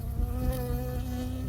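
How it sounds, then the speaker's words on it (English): A bee buzzing in the video game Firewatch, a close, steady insect drone with a wavering pitch that holds for the whole moment. "I got stung by a bee."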